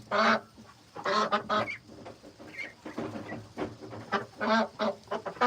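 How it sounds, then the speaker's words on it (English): Agitated poultry squawking and clucking in repeated loud bursts, several birds calling over one another at close range. "The chickens are going crazy"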